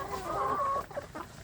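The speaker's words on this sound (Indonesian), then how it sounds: "ini yang di luar ini adalah anak ayam kampung yang pertama" Free-range village chicks cluck and peep close by in a short burst of soft, chirpy calls, with a quiet farmyard behind them.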